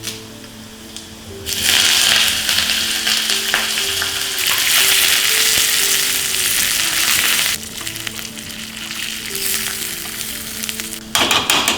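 Garlic and dried red chillies, then curry leaves, fry loudly in hot oil in a pan, with a strong steady sizzle and a few stirring bursts. The sizzling swells when the leaves go in and stays close and continuous.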